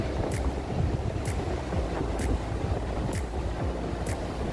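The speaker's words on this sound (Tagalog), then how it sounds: "Narinig nyo ba yung hangin?" Cold wind gusts at the coastal cliffs by London Bridge in Victoria, Australia, a constant broadband rush mixed with surf-like roar and faint periodic clicks, no speech.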